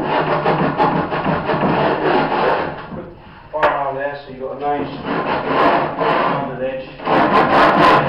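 Fine-grit sandpaper, around 240 grit, rubbed back and forth over the wood of a homemade telescope case, a loud, close, continuous scratchy rasping with short pauses between passes.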